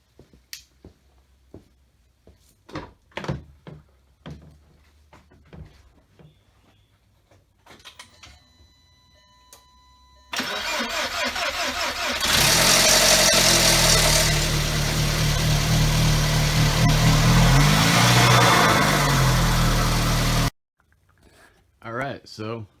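A VW GTI with a forged engine is cranked and fires, settling into a loud, rough, slightly uneven idle for about ten seconds before cutting off, preceded by clicks and clatter of work on the car.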